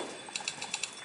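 A typewriter-style key sound from a phone keyboard app clacks in a quick run of about six light, crisp taps, faint and close with no voices.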